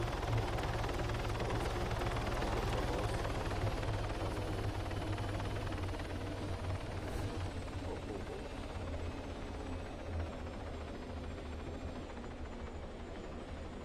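A helicopter flies in the ARMA 3 military game, its rotor and engine a steady, dense droning roar that holds at even loudness throughout, with faint voices talking underneath.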